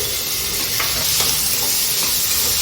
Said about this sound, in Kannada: ಇವಾಗ ನಾನು ಸೋಯಾ ಸಾಸ್ ಹಾಕ್ತಾ ಇದ್ದೀನಿ